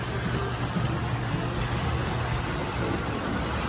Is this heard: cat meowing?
no